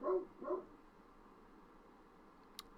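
A dog barks twice in quick succession, fairly close and moderately loud, followed by quiet ambient hum and a faint click.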